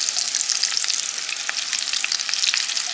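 Food frying in oil in a home pan, with a steady, dense crackling sizzle that stays loud and close, with occasional sharper pops and no talking.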